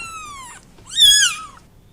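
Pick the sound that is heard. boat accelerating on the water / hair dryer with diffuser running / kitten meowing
kitten meowing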